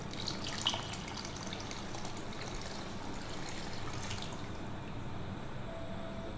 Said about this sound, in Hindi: अब हम इसमें तकरीबन 1 लीटर पानी शामिल करेंगे।